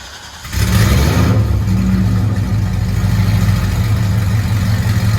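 Engine of an E85-tuned Corvette with headers and straight pipes catching on start, jumping to a loud, rough, burbling idle that holds close and steady.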